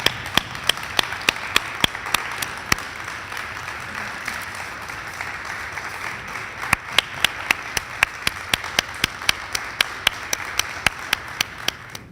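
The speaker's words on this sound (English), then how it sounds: "Let's give them a big round of applause." An audience applauds veterans at a college tribute ceremony, a steady wash of clapping with sharp individual claps standing out, sustained throughout.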